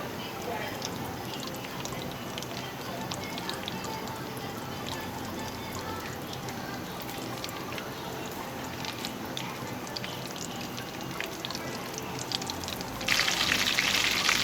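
Potato rolls frying in hot oil, a dense steady crackle and sizzle throughout, close and fairly loud, rising slightly near the end.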